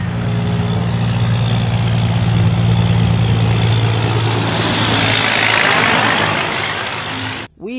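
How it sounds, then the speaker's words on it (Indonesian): Large container truck engine idling with a steady, loud low rumble close by, holding evenly for several seconds before a brief dip near the end. "ini truk kontainer besar"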